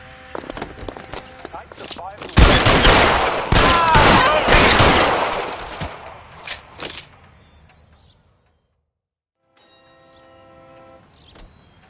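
Video game gunfire from the PS5 title L.A. Noire: a dense burst of rapid shots and metallic clangs, loud and close, rattling for several seconds before dying away, with voices talking around it and a faint ringing tail.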